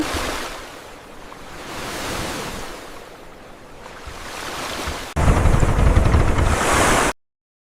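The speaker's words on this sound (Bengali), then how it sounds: "জাহাজ ভাসে সাগর জলে।" Sea waves wash around a floating ship in a steady broadband rush that swells and fades, then jumps louder for the last couple of seconds before cutting off.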